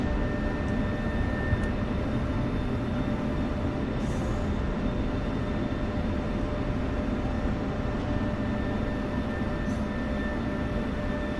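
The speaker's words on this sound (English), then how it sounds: "Touchdown and aero braking." Steady broadband roar of a jet on the runway at touchdown, likely an F-16 Viper landing and aero braking, continuous and loud for the whole stretch with faint higher tones above the rumble.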